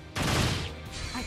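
Weapon fire in the video game Dark Rose Valkyrie, a loud dense burst of rapid shots that roars for about a second, then trails into a softer second volley.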